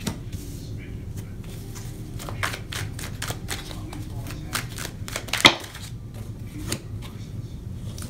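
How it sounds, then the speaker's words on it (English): Tarot cards are shuffled and pulled in a quick run of papery flicks and snaps, with one sharper slap near the middle, fairly close, over a low background murmur. "let me go ahead and pull the rest of your cards for August"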